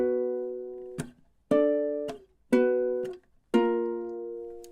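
A ukulele plays a heavy riff as four sustained strummed chords, each cut short by a percussive mute and then sliding into the next, close and clear with no talk.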